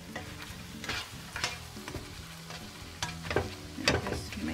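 Scrambled eggs with chives cook in a pan on low heat, a close sizzle broken by several scraping stirs of the spatula, louder toward the end, with no talking.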